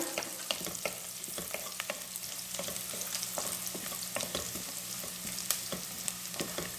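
Spices dry-roasting in a pan for chicken pepper fry give a steady low sizzle broken by frequent light scrapes and clicks of stirring, close and moderately quiet, with no voices.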